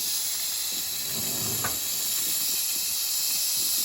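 Steam hisses steadily and loudly from a Nuwave 13-quart electric pressure canner, a continuous high airy rush that barely changes, with a short faint bump partway through.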